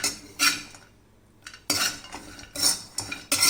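Cashews are roasted in a pan for sugarless dry fruit burfi, stirred with a metal utensil in bursts of scraping and rattling, close up and separated by short quiet pauses.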